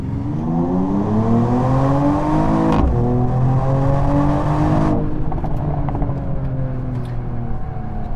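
A Mercedes-AMG E53 sedan with the AMG performance exhaust pulls hard from second gear on a roll. The engine and exhaust rise loudly in pitch, break briefly at a gearchange, then climb again as it keeps accelerating.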